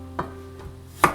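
A knife cuts through winter melon for a Taiwanese braised dish, giving two separate crisp chops on a board about a second apart over a quiet background hum.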